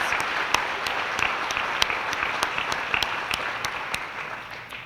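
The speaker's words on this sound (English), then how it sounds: "Ladies and gentlemen, may I have a round of applause for your officers for the 2024 Board of Directors." An audience at a chamber of commerce annual meeting and awards banquet applauds the incoming board officers, steady, even clapping from a seated crowd at moderate distance, continuing without pause.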